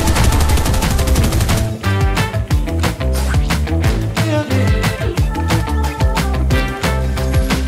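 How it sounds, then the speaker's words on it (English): Rapid automatic gunfire from an AI enemy in the Fortnite video game, loud dense bursts of shots cracking over a busy game soundtrack, continuous for several seconds. "There's an AI shooting me."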